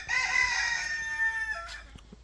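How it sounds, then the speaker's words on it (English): A rooster crows once, loud and near, its long drawn-out call fading at the end, in a garden where chickens are kept in the Netherlands. "There's chickens."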